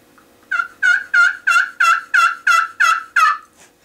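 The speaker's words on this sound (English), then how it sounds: "they make different noises on the different slate calls" A slate turkey call worked with a wooden striker gives a run of eight loud, evenly spaced raspy yelps, close and clear against a quiet background, then a faint final note.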